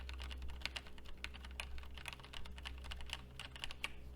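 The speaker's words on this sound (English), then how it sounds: "Testing keyboard noise on the Tonor Q9 microphone." Computer keyboard typing captured through a Tonor Q9 microphone, a steady run of quick clicky keystrokes at close range over a low constant hum, with no voices.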